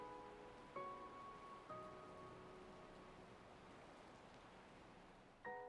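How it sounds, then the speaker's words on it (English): Steady, soft rain hiss fills the whole stretch, with a few faint tonal chimes or hums drifting in and out over the patter. "It sounds like the rain has finally stopped."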